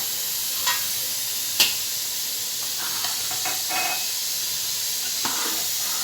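Steady hiss of a tempering for masoor dal sizzling in a hot pan, a continuous frying wash broken by a few sharp spits and crackles, close and fairly loud with no talk.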